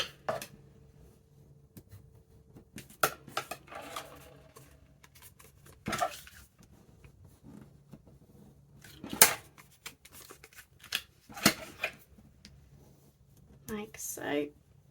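Bone folder creasing scrapbook paper for junk journal pockets, a series of brief soft rubs and taps scattered across the moment, close and quiet, with faint speech between them.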